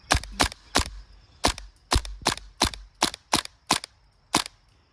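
A modified PP2K airsoft gas pistol fires about fourteen sharp, snappy pops in irregular bursts, close and loud, with a faint steady hiss of gas between shots.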